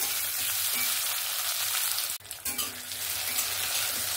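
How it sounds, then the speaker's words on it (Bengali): Chopped tomato and slit green chilies fry in a pan, a dense, close crackling sizzle that drops sharply for a moment midway, then returns with a few bubbling spits. "টমেটো কাঁচা লঙ্কাটাও ভালোভাবে ভেজে নিয়েছি"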